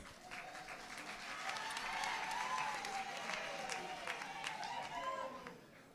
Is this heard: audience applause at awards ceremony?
yes